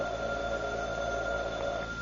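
A steady electronic telephone tone rings continuously, with a sustained buzzing hum underneath and no pauses.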